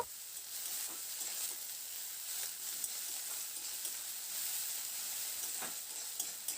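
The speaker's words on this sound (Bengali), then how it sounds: "পেঁয়াজটাকে হালকা করে প্রথমে একটু ভেজে নেব" Onions frying lightly in a pan for a spring onion curry, a soft, even sizzling hiss with only faint stirring ticks, quiet throughout.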